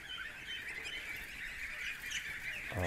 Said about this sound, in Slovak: Toto sú kačky brojlerové. Takzvaná kombinácia Sherry Valley.